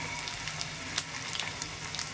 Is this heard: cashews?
yes